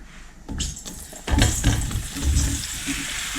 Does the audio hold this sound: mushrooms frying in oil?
yes